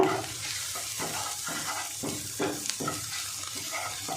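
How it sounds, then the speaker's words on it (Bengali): Salt being stirred into an egg and onion mixture for a flour roll, with steady rhythmic scraping strokes about every half second over a soft background sizzle, close and moderately loud, no talking. "স্বাদ মতো লবণটা দিয়ে দেব, দিয়ে লবণটা মিশিয়ে নেব।"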